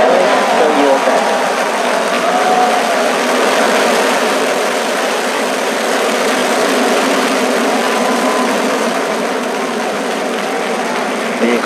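A twice-flown SpaceX Falcon 9 rocket carrying 60 Starlink satellites lifts off, a broad continuous roar holding steady and heavy throughout, with a voice speaking over it.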